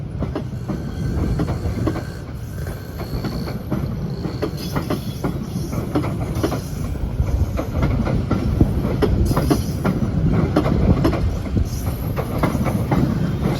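CC 201 diesel locomotive passes at close range hauling its train, a loud continuous rumble with rhythmic wheel clatter on the rails and a faint hiss throughout.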